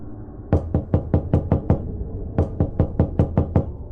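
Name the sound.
knocking on a door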